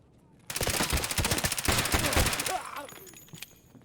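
Gunfire in the video game Escape from Tarkov: a loud, rapid automatic burst of about two seconds, then scattered fainter shots as it tails off, with a player's voice briefly heard.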